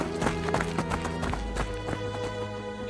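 Footsteps of people running along a narrow forest path thud in a quick, uneven rhythm of sharp taps over a dense, tonal background, heard close and moderately loud.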